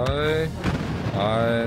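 A grenade explosion in the Star Wars Battlefront video game, a heavy boom bursting between sustained tonal game sounds and music, with no talking.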